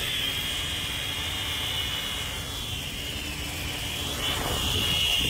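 An Ascend Aeronautics ASC-2450 drone flies outdoors in gusty wind, its motors making a steady high whine that stays loud and unbroken and swells a little toward the end.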